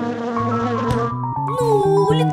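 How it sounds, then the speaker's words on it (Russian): A cartoon bee drawn to jam buzzes loudly and up close. The drone wavers in pitch and shifts tone as it moves. "Просто пчела, как и ты, любит варенье."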